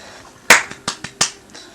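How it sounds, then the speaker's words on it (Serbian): Several sharp hand claps right beside a microphone, four or five quick uneven smacks over under two seconds, close and loud against a quiet background. "Ja se izvinjam što tapšem pored mikrofona."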